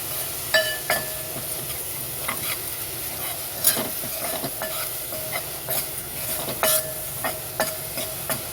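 Masala being sautéed in oil in a pan for a papdi bhaji, with a steady low sizzle beneath repeated spoon scrapes and light metallic clinks, moderately close.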